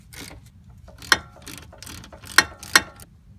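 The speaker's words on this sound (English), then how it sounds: "So now we'll finish installing the caliper by tightening up these bolts." A ratchet clicks while tightening brake caliper bolts on a 1997 Dodge Ram 1500 during a rotor, bearing and brake pad job, with several close, sharp ratcheting strokes spaced irregularly against a quiet background.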